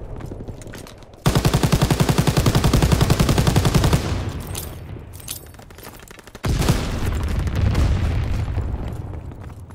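Sustained anti-aircraft gunfire in Call of Duty WWII, loud rapid bursts of booming shots that thin out midway and then resume just as dense, with no voices over the barrage.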